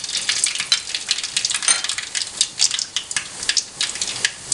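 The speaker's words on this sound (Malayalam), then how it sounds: "കടുക് ചേർക്കുന്നു" Mustard seeds spluttering and popping in hot oil: a dense, steady crackle of sharp little pops and sizzling hiss, close and fairly loud, with no voices.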